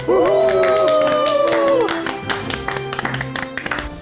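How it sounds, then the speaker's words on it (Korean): At a Korean history lecture, a studio audience welcomes the lecturer. A short musical sting plays first, followed by scattered, fairly light clapping from the crowd. "큰 박수로 모시도록 하겠습니다"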